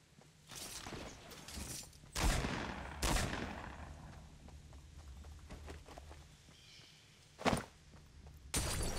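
Scattered gunshots ring out in the video game Fortnite, a few sharp loud cracks spaced seconds apart among light footsteps and ambient game noise.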